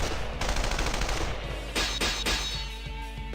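Heavy artillery gunfire in the Persona 4 Arena fighting game: rapid bursts of synthetic shots and blasts crackle through a busy mix, fading toward a quieter tail.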